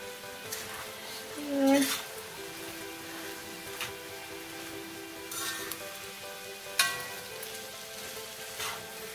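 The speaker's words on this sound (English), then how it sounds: "I'm gonna add the rest of my noodles. And stir it." Lo mein noodles fry and get stirred in a pan with gravy, giving a moderate, steady sizzle with a few utensil scrapes and clinks, while a person talks over it throughout.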